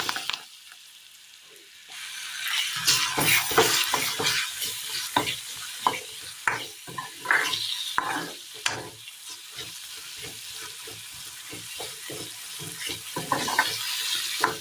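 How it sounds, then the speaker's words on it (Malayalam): Curry leaves and tomato fry in a pan for a Kerala curry, a steady close sizzle punctuated by repeated stirring scrapes, loud and alone after a quiet start. "കറിവേപ്പില, തക്കാളി ഇട്ട് കൊടുക്കുകയാണ്."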